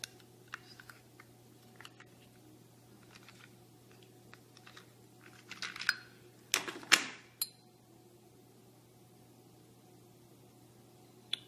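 A Kinkajou bottle cutter's blade scores slowly around a glass bottle, giving faint scattered ticks and short gritty scratching bursts that cluster near the middle, then a few sharper clicks over a quiet background.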